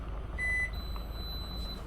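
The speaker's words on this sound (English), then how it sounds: "That is the beep of the appliances turning on." Electronic beeps from appliances powering on inside a 2026 Winnebago View 24R RV with a 2000 watt inverter, a short single-tone beep followed by a longer thin high tone, faint over quiet background hum.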